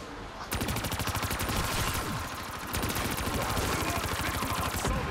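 Video game gunfire comes as long, dense bursts of rapid shots with a brief break partway through, loud and close, with faint voices underneath.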